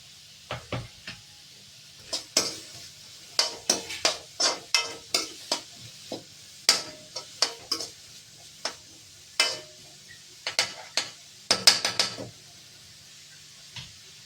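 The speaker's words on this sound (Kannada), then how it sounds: "ಸಣ್ಣಗೆ ಹೆಚ್ಚಿದ ಈರುಳ್ಳಿ, 2 ಈರುಳ್ಳಿಯನ್ನು ಹಾಕ್ತಾ ಇದ್ದೇನೆ" Two finely chopped onions frying in a pan for palak paneer, heard as a faint sizzle beneath frequent sharp scraping strokes of a spoon, irregular and close, with no talking.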